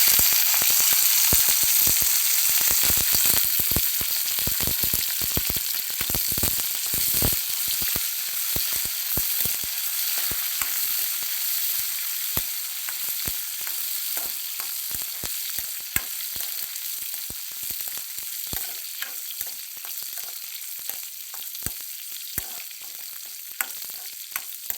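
Mustard seeds, cumin, dried red chilies, curry leaves and garlic crackle and sizzle in hot oil, a steady close frying hiss dotted with sharp popping bursts that thin out slowly over time, with no voices.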